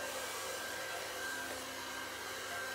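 A hair dryer blows on strands of hair, a steady close whirring rush of air with a faint motor whine, constant and alone without any talk.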